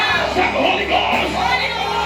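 A church congregation shouts together in a loud, dense wash of overlapping voices during a prophetic service, sustained for a couple of seconds.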